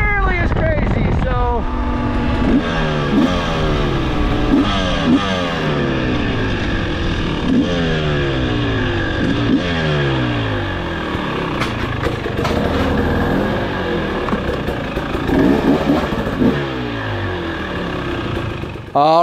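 2023 KTM 300XC dirt bike engine, loud and close, revving repeatedly in rising and falling sweeps through the gears, with a rider's voice intermittently over it.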